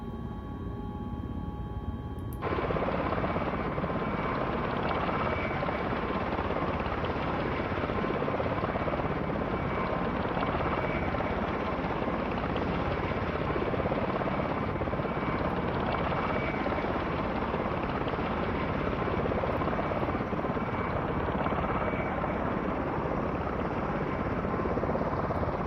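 A V-22 Osprey tiltrotor taxiing in Microsoft Flight Simulator, a loud, steady rotor and engine roar that jumps up after a couple of seconds and then holds constant and close throughout.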